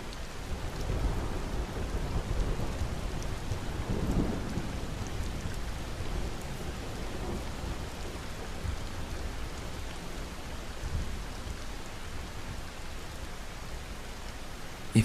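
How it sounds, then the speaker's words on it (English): Steady rain pattering on surfaces fills the scene with a soft, continuous hiss, while low rumbles of distant thunder roll through now and then, with no voices. "savoring the soothing music of the rain and distant thunder."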